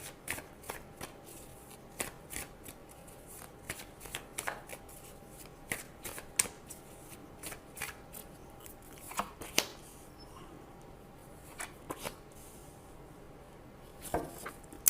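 Tarot cards are shuffled and handled for a reading, producing a steady run of soft slaps, flicks and riffles spread evenly over the span, close and fairly quiet, with no talking.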